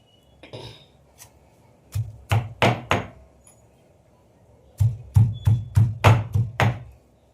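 Curry leaves and coriander being chopped for rasam with firm, dull thuds on a board: a few scattered knocks, then a quick run of about seven steady strikes, close by.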